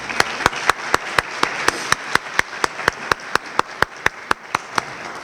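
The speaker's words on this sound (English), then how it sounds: "I'd like to give Gary Harvey and Karen Nixon a big round of applause" Slow, evenly spaced hand claps, roughly four per second, sounding like a small group or single person clapping steadily at an Optimist Club program, with no talk over them.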